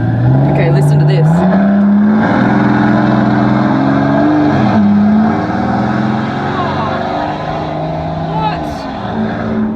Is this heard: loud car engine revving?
yes